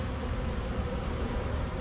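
Carniolan honey bees hum with a steady, dense buzz throughout a nuc installation, close and continuous with no talking over it.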